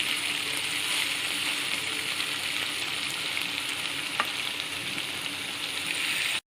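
Pieces of green chicken tikka sizzle and fry in a pan after being turned, a steady, close, bright crackling hiss that holds evenly throughout and then cuts off abruptly.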